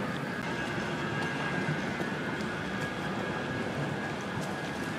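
A tram at the Piccadilly Gardens stop in a city centre makes a steady rumbling drone with a faint hum, running continuously at moderate level without a clear start or stop.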